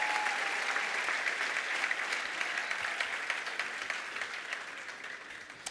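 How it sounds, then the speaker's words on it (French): Enthusiastic applause from a large crowd at a Christian gathering, a dense wash of clapping that holds steady and slowly eases toward the end. "On peut les applaudir."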